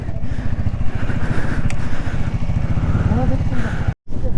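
A motorcycle engine idles and putters close by while the rider parks on a Ladakh road trip beside a lake, running steadily throughout with a brief cutout near the end.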